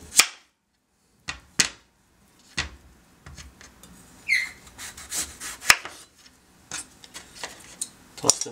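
A peeled butternut squash has its ends trimmed off, heard as a series of sharp, close cutting knocks spaced irregularly, with softer rubbing and handling noises in between.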